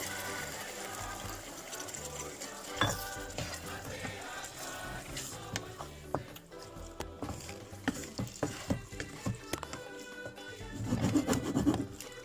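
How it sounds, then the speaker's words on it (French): Onions cook in strained tamarind juice, stirred with a utensil that gives scraping, rubbing sounds and soft knocks over a low simmering bubble, ending in a louder burst of stirring. "Maintenant, c'est avec ce jus que je vais continuer à cuire les oignons."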